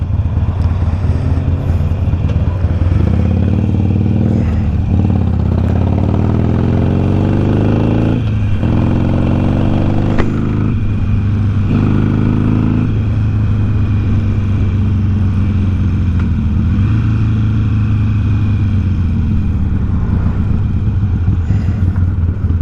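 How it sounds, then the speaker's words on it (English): A motorcycle engine revs repeatedly while the rider holds a faulty rear brake. Loud, close engine drone rises and falls in several bursts over a steady idle. "Try to grab my brake and rev the engine at the same time."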